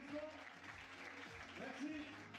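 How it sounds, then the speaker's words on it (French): Faint audience applause at a motivational talk, a soft wash of clapping mixed with a voice speaking over it. "À tous les applaudissements."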